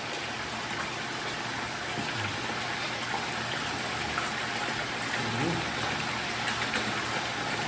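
Dirty backwash water gushes steadily out of a household water filter onto plants, a continuous splashing flow with faint voices in the background.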